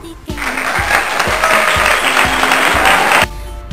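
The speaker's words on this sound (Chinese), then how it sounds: "掌声加尖叫。" An audience bursts into dense, steady applause for about three seconds, loud and close, then cuts off abruptly.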